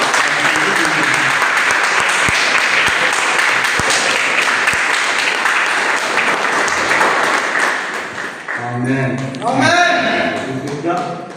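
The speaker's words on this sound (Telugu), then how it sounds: "యేసయ్యకు చప్పట్లు కొడుతూ" Congregation at a Telugu church service claps for Jesus in steady, dense applause for several seconds, then a voice begins speaking over the fading clapping.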